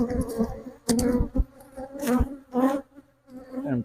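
Honeybees buzz around an open hive during a walk-away split, the drone rising and falling in close, uneven bursts with brief lulls between passes.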